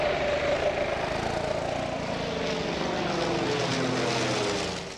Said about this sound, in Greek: στο έργο της κατάσβεσης βοηθούσαν και αεροσκάφη, κάνοντας συνεχείς ρήψεις νερού